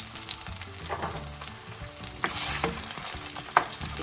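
Potato pieces sizzle and crackle in hot cooking oil in a pan, the first step of a shrimp curry, with a few stirring scrapes over a steady close frying hiss.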